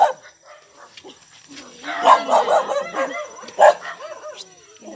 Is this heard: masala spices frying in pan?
no